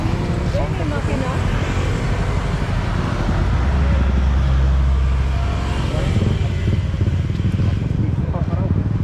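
A big bike motorcycle engine drones loud and close through the Marilaque mountain curves, with heavy wind buffeting the mic and a voice talking over the ride.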